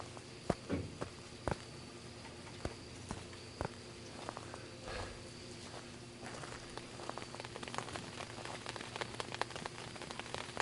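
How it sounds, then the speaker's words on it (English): Rain patters steadily on a tarp in the Phasmophobia game, a dense, fine crackle of drops with sharper taps scattered throughout and a low ambient hum underneath. "they actually made it so it sounds like rain is hitting a tarp"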